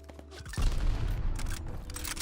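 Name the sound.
grenade thrown and exploding in video game Call of Duty Vanguard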